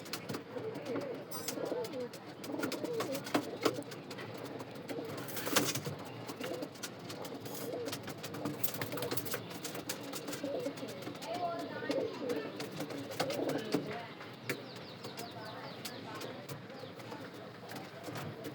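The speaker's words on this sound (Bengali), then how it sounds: "প্রত্যেকটা পায়রায় জল খেয়ে নেবে।" A flock of pigeons coos softly and repeatedly while drinking water, low throaty calls overlapping with scattered chirps and shuffling over a faint background hum.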